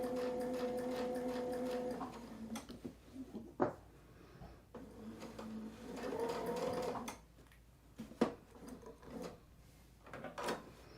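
A sewing machine stitches a zigzag pattern in steady, whirring runs, stopping and starting between runs, with clunks and clicks of the machine heard nearby.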